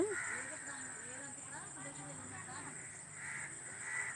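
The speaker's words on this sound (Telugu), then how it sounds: "చూడండి పక్షులు కిలకిల రావాలి" Birds calling and chirping at sunset as they return to their nests, a steady chorus of overlapping calls with crow-like caws, with a voice talking over them throughout.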